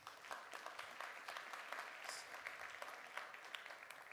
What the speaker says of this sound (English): we could give him another round of applause.